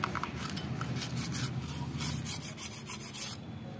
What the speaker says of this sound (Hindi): रिंग वायर से इसको घिस लेना है